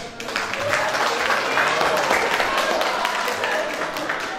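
A lecture audience at a work-culture talk in Surabaya claps for several seconds, a dense wash of hand claps at steady volume with voices and speech mixed in.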